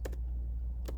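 Typing on a computer keyboard while writing C++ code, two short quiet clusters of keystrokes at the start and end, separated by near silence over a low steady hum.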